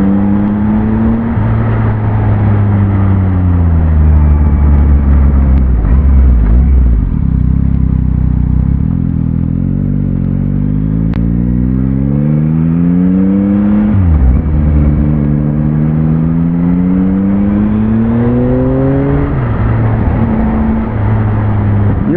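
A 2021 Yamaha MT-09 SP motorcycle rides along with a loud, steady engine drone that rises and falls through gear changes, close and dominating throughout.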